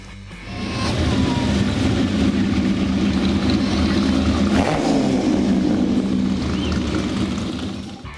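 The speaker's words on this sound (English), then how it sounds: "There was about a dozen or so Ferrari 250 Testarossas, which I was lucky enough to capture them parading at the end of the show." A dozen or so Ferrari 250 Testarossa sports cars parade at the close of a Monterey Car Week show, their engines rumbling and revving loudly and continuously as they pass nearby.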